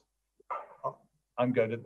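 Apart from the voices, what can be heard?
dog barking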